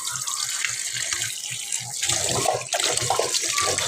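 Tap water runs steadily into a sink while mixed vegetables are rinsed before cooking. There is a constant splashing hiss, and an unsteady low thumping from handling grows a little louder partway through. No one speaks.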